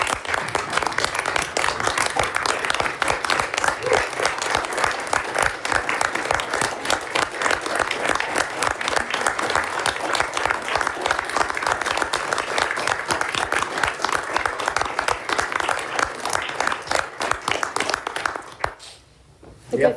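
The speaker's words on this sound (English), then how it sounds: "I would just ask you to join me in a round of applause for Colette" A long round of applause at a university Board of Visitors finance committee meeting, dense individual claps continuing steadily before dying away near the end, with a voice resuming afterward.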